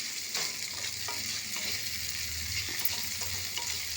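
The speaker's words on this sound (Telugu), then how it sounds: "ఆ ముద్దంతా వేసి బాగా వేచాలి" Ground onion and spice paste frying in a little oil for a chickpea and coconut masala curry, a soft continuous sizzle with faint scraping stirs, fairly quiet and unbroken by speech.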